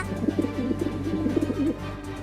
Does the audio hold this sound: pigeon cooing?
yes